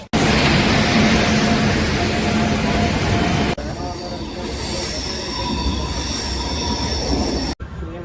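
Seshadri Express, Kakinada Town to SMVT Bengaluru, rolling on rails with a loud continuous roar, wheel squeal and rhythmic clatter, the tone shifting partway through as the surroundings change; a voice speaks over the train.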